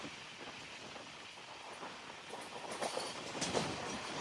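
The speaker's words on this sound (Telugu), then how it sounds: "ఎల్హెచ్బి కోచ్ వచ్చేసి నూట ముప్పై కిలోమీటర్ స్పీడ్తో వెళ్తుంది" An Indian express train with LHB coaches, the Seshadri Express, runs at speed, giving a steady rolling rumble with faint rail clatter that rises slightly toward the end.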